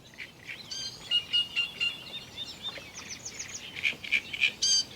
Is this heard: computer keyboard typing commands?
no